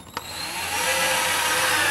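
A power drill pre-drills into split wood, spinning up after a brief click and running steadily with a whining, grinding buzz, close by and fairly loud.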